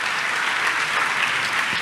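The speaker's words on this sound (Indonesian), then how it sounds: "Tepuk tangan yang paling meriah buat Tuhan" Church congregation applauding during a sermon, a dense steady wash of many hands clapping, moderately loud and continuous throughout the short burst.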